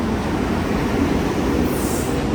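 A SEPTA electric commuter train pulls into the station with a loud rumbling roll of wheels on rail, joined near the end by a high metallic squeal as it slows.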